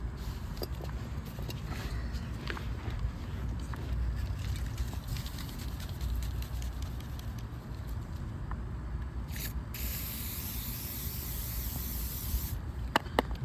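A steady WD-40 aerosol spray hisses continuously for several seconds onto rusty parts of a Kawasaki KLR650 motorcycle, close by, with a couple of brief pauses and some handling noise.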